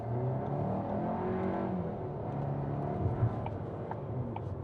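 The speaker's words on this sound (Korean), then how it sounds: "자, 미션을 요 언덕길에서 한번 테스트를 해보도록 할게요." A Kia Seltos engine with an 8-speed automatic drones and gradually revs higher as it accelerates up a hill, with a steady low rumble and faint road noise throughout.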